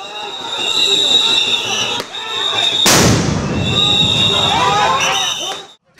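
Police sound grenades exploding at a student protest, with one loud, sharp blast cutting through steady crowd noise, shouting and whistles around it.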